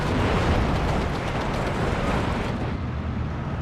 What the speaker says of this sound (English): They have the best 105 mil artillery piece in the game.